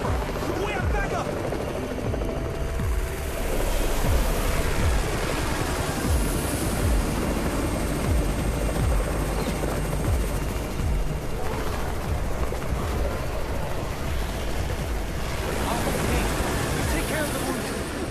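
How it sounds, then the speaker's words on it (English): A helicopter arrives in the zombie video game Undawn, its steady rotor drone running throughout alongside bursts of gunfire and shouting voices. "It's the Raven's chopper!"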